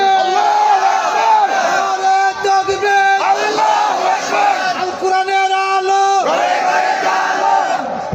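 A large crowd at an Islamic youth mahfil gathering in Sultanpur, Bangladesh, loudly shouts the takbir in unison, a sustained roaring chant of many voices filling the space with a few brief dips.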